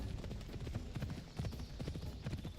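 Horse hooves pound in a quick, steady gallop in the ancient Greek setting of the video game Assassin's Creed Odyssey, a continuous rhythmic clatter at moderate distance with no talking.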